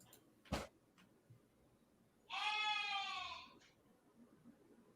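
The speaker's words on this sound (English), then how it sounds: "That's a sheep." A sheep bleats once in a loud, wavering cry lasting about a second, close to the microphone, after a brief knock; no one speaks during the call.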